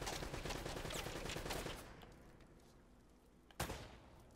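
Enemy gunfire in the video game Uncharted: Drake's Fortune: a dense, continuous burst of rapid shots that cuts off, leaving quieter background, then one sharp loud report near the end, with no talking.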